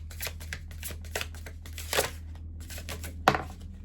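Tarot cards being shuffled by hand for a reading, giving a series of soft riffling and tapping bursts with a few sharper snaps, close and fairly quiet.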